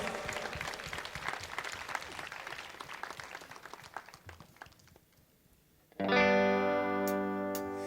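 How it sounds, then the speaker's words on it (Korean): A young adults' church congregation claps in praise during worship, a dense round of applause that thins out and stops before a sustained band chord with synth tones takes over. "하나님께 영광의 박수 올리겠습니다"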